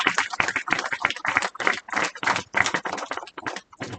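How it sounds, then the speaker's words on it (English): An audience at a university library event gives a speaker sustained applause, many hands clapping close and steady in dense bursts for several seconds with no talk over it. "give our speaker a very rousing applause"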